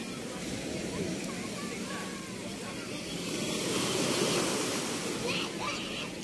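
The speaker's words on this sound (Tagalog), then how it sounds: "Lakas ng alon." Strong ocean surf at a Puerto Galera island beach, a loud continuous roar of crashing waves that swells midway, with faint voices mixed into the wash.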